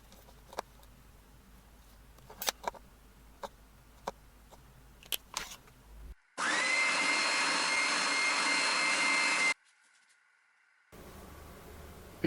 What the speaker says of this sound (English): we'll sand in some little notches here to help us spin it